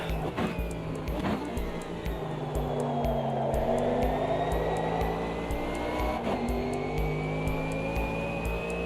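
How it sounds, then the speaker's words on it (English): Race car engine in a racing video game drifting through a corner under light throttle, a steady sustained whine with rising pitch sweeps and tire squeal, loud and continuous with no talking. "The tiniest amount of throttle gets the rear end gliding around that previous corner."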